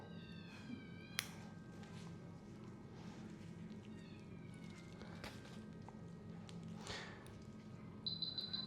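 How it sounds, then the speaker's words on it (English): A cat at a veterinary clinic meows repeatedly in a drawn-out, complaining way, several distinct calls spread over the span against a quiet room hum, with a brief shrill tone near the end. "Very vocal little kitty."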